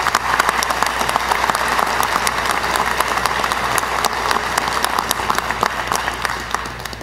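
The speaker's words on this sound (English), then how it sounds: "Let's give Dr. Blassingame a round of applause." A graduate commencement audience applauds Dr. Blassingame with steady, dense clapping that fills the hall at an even level for the full stretch, with no pause or fade.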